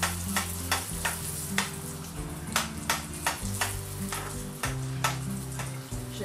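Sfenj, Algerian doughnuts made with flour, fry in hot oil with a continuous bubbling sizzle, punctuated by regular soft splashes as oil is spooned over the puffing dough; close and alone, no voices.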